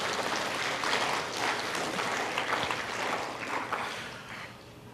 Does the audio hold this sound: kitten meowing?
no